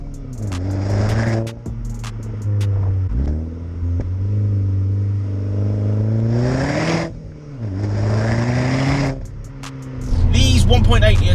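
A modified Skoda Octavia vRS with a 1.8 litre turbo engine and a 3-inch straight-through exhaust to a back box revs and accelerates in repeated rising pulls, a moderate engine drone under steady talk.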